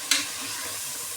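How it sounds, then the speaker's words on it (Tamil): Tomato being sautéed in a pan for chicken biryani, a single short scrape of a spoon at the start followed by a soft, steady sizzle, close and fairly quiet, with no voices. "நல்லா வதக்கிக்கலாம்."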